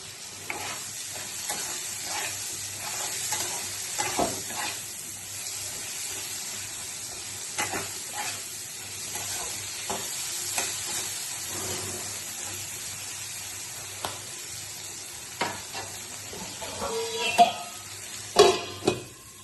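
Half a chopped onion fries in a pan with a steady hiss and sizzle, broken by repeated scraping stirs of a spatula and occasional louder clacks against the pan near the end, close up and with no talking.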